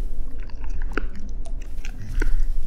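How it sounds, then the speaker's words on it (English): Scabbers munches noisily in the horror game From The Darkness, close, wet chewing with repeated crunchy bites in an irregular rhythm, with little else around it. "You guys hear him having a munch?"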